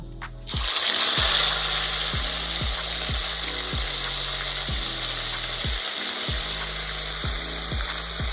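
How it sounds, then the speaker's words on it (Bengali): Ginger and green chili paste hits hot oil with black cumin and fries in a loud, steady sizzle. Scraping stirs recur in a regular rhythm close by, with no talking. "আদা কাঁচা লঙ্কার পেস্টটাকে দিয়ে আমি একটু তেলের সঙ্গে ভালোভাবে নেড়ে নেব।"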